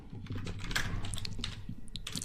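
Computer keyboard keys clatter in a quick, steady run as HTML code is typed, with close, continuous clicking and no talk.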